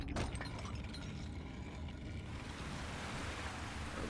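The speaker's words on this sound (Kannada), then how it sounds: "ಓಕೆ, ನೀರು ಬಂತಂತೆ ಕೆಳಗಡೆ." Water floods in below the player in Uncharted: Drake's Fortune: a steady, loud, broadband wash like surging surf that fills the whole clip without a break.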